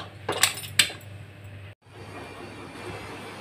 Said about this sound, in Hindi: कुकर का ढक्कन लगा दूँगी इसको होने के लिए।